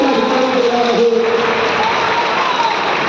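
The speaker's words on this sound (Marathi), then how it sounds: "टाळ्या याकरता वाजवू नका, पुढच्या गोष्टी करता टाळ्या वाजवा" An audience applauds during a speech, with continuous, steady clapping and a little crowd noise throughout.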